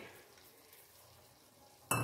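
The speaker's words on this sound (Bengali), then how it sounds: "আবার ঢাকা খুলে নেড়ে দিচ্ছি" Food being stirred in a frying pan after the lid comes off, a soft continuous sizzle with faint scraping, then a sudden louder clatter right at the end.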